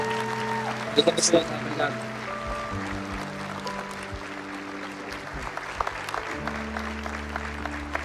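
A church congregation claps briefly and unevenly during a Portuguese-language service, with a burst of applause early on; someone speaks over it while sustained music plays underneath.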